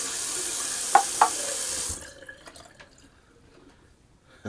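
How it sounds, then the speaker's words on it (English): Bathroom sink tap runs strongly to rinse shaved whiskers from the basin, a steady hiss with two clinking knocks, then the flow cuts off, leaving faint drips and small sounds. "Just gonna rinse out my sink real quick for a little whiskers."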